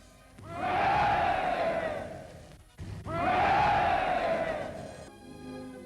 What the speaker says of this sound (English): called on the crowd to give him 3 special cheers, which they did with a will